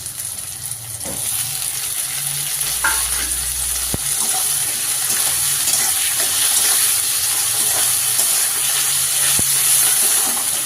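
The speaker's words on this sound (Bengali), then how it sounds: "এবার টমেটো কুচিটা দিয়ে দিই।" Chopped tomatoes hit hot oil with lightly fried onions in a pan while cooking a chicken curry, giving a steady, close sizzle with a few soft stirring knocks and scrapes.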